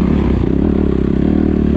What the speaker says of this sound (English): Revving his bike at me and all.